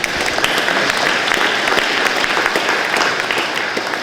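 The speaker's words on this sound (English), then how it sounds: "they deserve a round of applause" Loud, close crowd applause at a county council election count, dense continuous clapping with no break throughout.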